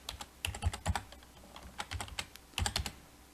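Fast clattering keystrokes on a computer keyboard, close and moderately loud, in quick bursts with short pauses between them.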